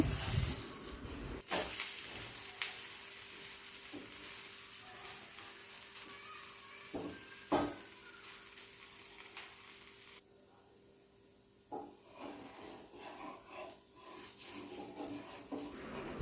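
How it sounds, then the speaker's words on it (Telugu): Steady sizzling of a mung bean crepe (pesarattu) frying on a hot pan, with a few scraping and clinking utensil sounds as it is flipped; the sizzle drops briefly near the end, then returns. "పెసరట్టును ఇప్పుడు తిప్పి వేసుకుందాం"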